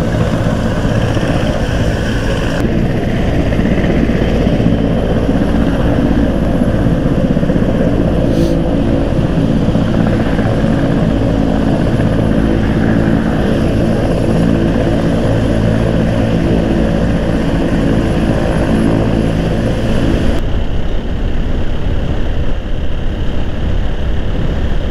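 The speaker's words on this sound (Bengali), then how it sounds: "এখানে বাংলাদেশ সেনাবাহিনীর একটি হেলিকপ্টার অবতরণ করছে।" A Bangladesh Army helicopter lands nearby, its rotor and engine a loud, steady droning roar that fills the scene throughout, with a shift in tone near the end and no speech.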